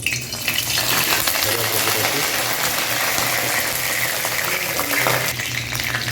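Two potatoes frying in heated oil at a street food stall, a steady dense sizzle and bubbling crackle running throughout, close and loud, with a low hum beneath and no talk.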